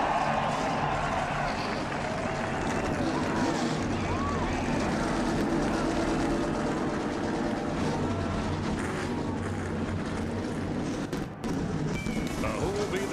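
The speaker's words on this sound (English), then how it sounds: "Gentlemen, start your engine." A field of NASCAR stock car engines fires up and rumbles together at Dover's Monster Mile, a loud, dense, continuous roar under crowd and broadcast noise.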